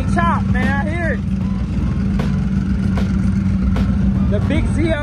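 A Chevrolet Camaro ZL1 rumbles at a steady, deep idle at a large Texas cars-and-coffee gathering, loud and close, with someone talking over it.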